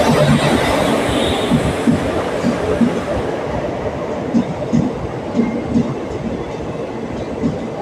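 A train rumbles steadily with a rhythmic clatter of wheels over rail joints, loud and close, as it departs on the Chennai to Salem line, hauled by ICF coaches.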